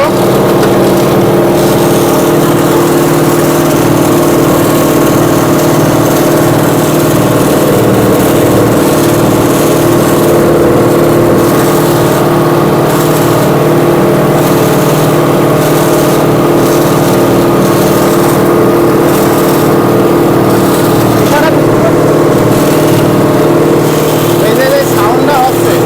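A machine restarted and running at its set RPM, with a nylon belt drive, holds a loud, steady mechanical drone with strong low harmonics throughout, while someone talks over it.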